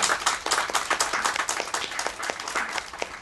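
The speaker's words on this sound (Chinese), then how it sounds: "热烈的掌声欢迎她吧。" A large audience applauds warmly, a dense, steady wash of many hands clapping that stays loud from start to end.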